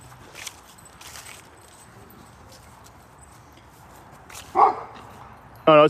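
A big mini husky barks outdoors at a passerby, two short sharp barks near the end, the last loud and close, over quiet background noise.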